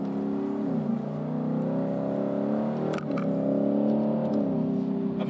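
Car engine revving up under acceleration while shifting gears via paddle shifter in manual mode, harmonic drone rising then dropping sharply at each quick upshift, two shifts heard close, steady and loud.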